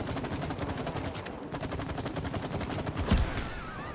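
Rapid automatic gunfire in the co-op video game It Takes Two, a dense rattling stream of shots that pauses briefly mid-burst and then resumes, loud and continuous.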